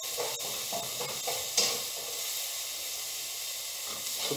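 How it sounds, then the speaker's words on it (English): Onions for a frittata cooking in a pan, a steady close hiss of sizzling with a few light clicks and stirring touches, fairly quiet and continuous with no talk. "Now the onions are in, they're cooking away nicely."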